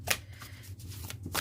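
A deck of cards is shuffled in quick riffling bursts, close and crisp, with a short pause between the flurries.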